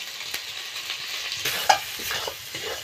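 Turmeric, chili powder and salt sauté in oil in a pan while a spoon stirs them, giving a continuous moderate sizzle with scattered scraping strokes and one sharper knock.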